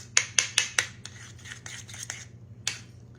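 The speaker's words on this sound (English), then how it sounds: "I'm gonna stir it around" Spoon scraping and clicking against a bowl while stirring horseradish onion dip, four sharp strokes in quick succession, then softer rubbing and one last clack, close up over a low steady hum.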